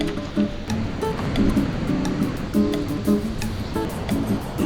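Ocean waves break on a surf beach near rocks, a rolling, surging wash that swells and recedes several times, fairly loud and close, with no voices.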